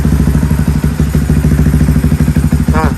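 A bored-up Yamaha WR155 motorcycle with an aftermarket exhaust idles close by, a steady, even, loud low putter with a short faint squeak near the end.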